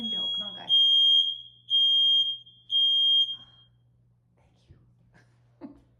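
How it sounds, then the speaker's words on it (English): A household smoke detector sounds three loud, shrill, sustained beeps in a row, each about a second long, with soft whispering voices before and faint sounds after in an otherwise quiet room. "that's the smoke detector."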